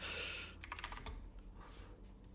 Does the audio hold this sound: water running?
no